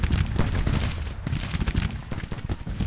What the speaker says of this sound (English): our men from Louisiana need to open fire to drive them away